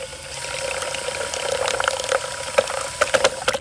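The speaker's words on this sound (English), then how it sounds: "And I'm gonna use the big paddle since I still have it attached." A drill-driven paddle churns citric acid into warm water in a bucket, giving a steady whirring motor hum over sloshing, splashing water that grows choppier with intermittent clacks toward the end.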